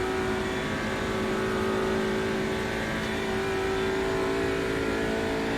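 Race car engine held at a steady high drone at top speed down a straight during an onboard qualifying lap at the Nürburgring Nordschleife, loud and continuous with no letup.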